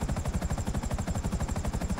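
A helicopter in GTA V Online thuds with fast, evenly spaced rotor beats, a loud and steady chopping pulse close by over a whining engine tone, with no talking.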